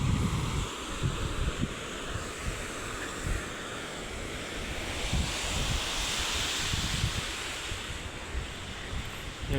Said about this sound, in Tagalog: So lakas ng alon,